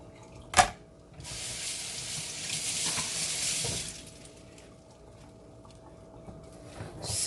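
After a sharp clunk, a kitchen tap runs in a steady splashing rush over a carrot being rinsed for a few seconds, then shuts off, leaving quiet room tone.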